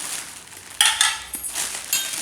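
Steel dishes and utensils from the Agromech steel factory clink and clatter nearby in a few quick, bright metallic knocks, with no voices.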